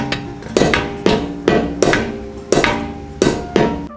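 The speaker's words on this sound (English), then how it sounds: "I used the rubber mallet instead of a real hammer" A rubber mallet strikes a Lexus suspension part during a BC coilover install, with about eight sharp thuds coming at an uneven, roughly half-second pace, close and loud.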